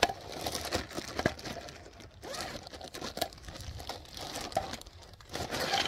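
A plastic bag is crumpled and crinkled close by, irregular soft rustles and crackles coming in uneven bursts, quiet but clear, while it is doubled up for RV grey and black water tank dumping.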